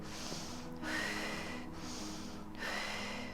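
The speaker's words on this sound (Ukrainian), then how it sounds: "Це поверхневе дихання." A person demonstrates shallow chest breathing, with quick, audible breaths drawn in and out close to the microphone in a steady rhythm, without speech.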